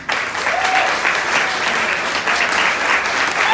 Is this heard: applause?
yes